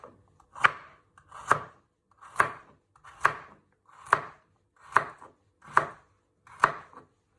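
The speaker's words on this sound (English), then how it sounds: "you chop it in half like that, then half again, and finally" A knife chops and slices a carrot on a cutting board: eight evenly spaced, crisp strokes about one per second, close and clear with no talking.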